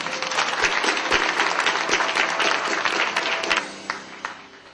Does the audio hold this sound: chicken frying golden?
no